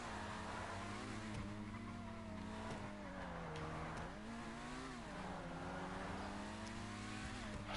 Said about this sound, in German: Das Auto will gerade nicht so wie ich.